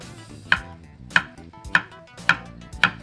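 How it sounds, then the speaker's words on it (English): A knife chops zucchini on a cutting board in a home kitchen, five evenly spaced crisp chops landing about every half second over a quiet background hum. "we're gonna cut the zucchini"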